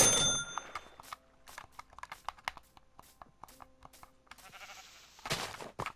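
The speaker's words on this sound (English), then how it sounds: "there's a sheep right there, dude." A sheep in the Minecraft video game bleats in short, separate calls, mixed with quick keyboard clicks and tapping. Game sounds rise louder near the end.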